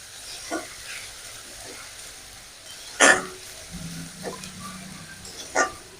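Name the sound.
tomato paste being stirred and fried in a pan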